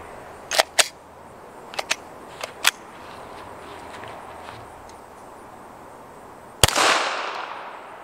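A 9mm shot of 124 grain powder coated cast lead fired from a Polymer 80 Glock 34 build into a lead plate: a single loud, sharp crack near the end with a brief ringing tail, after several fainter snapping clicks earlier.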